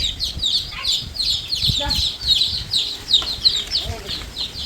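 Chickens cluck around a home yard where a hen's chicks roam, a stream of short high calls and chirps near and far, with bits of speech mixed in.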